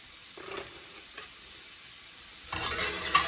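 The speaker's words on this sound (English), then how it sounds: "Just throw it in there, let it melt, and then we're gonna saute it all together." Butter sizzles in a pan while coq au vin is sautéed, a soft, close crackling hiss with a few stirring scrapes that grows louder near the end.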